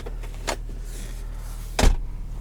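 Electric sunroof on a 2018 Ford F-150 Lariat Power Stroke diesel, a quiet interior with faint mechanical whirring, a few soft clicks, and one sharper thunk near the end.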